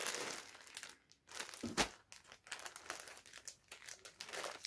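Crinkly plastic packaging around a white t-shirt from a subscription box being torn open, with a steady run of close, loud crumpling and crackling bursts that carry on alone throughout.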